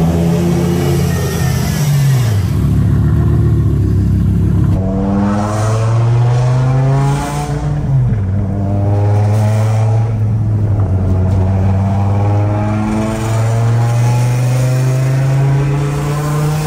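BMW M5 E60 accelerating hard on a test drive, its engine climbing loudly through the revs, dropping at two gear changes and rising again, heard from on board with no talking.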